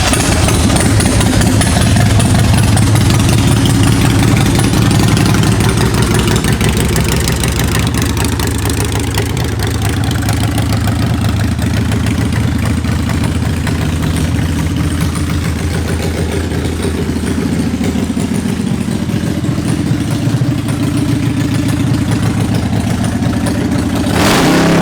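A 2002 Harley-Davidson FXD Super Glide motorcycle idles close by, its steady, loud V-twin rumble continuing throughout with slight shifts in tone and no talking.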